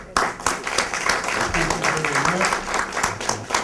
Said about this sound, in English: Let's give our guests an applause.